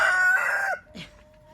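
A rooster crows once close by, a short loud call, followed by a faint cluck.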